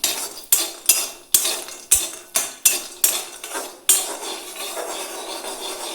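Potol is stirred and fried in a kadai, with a spatula clanking and scraping against the metal in about eight sharp, rhythmic strokes, followed by a softer continuous sizzle with no talk.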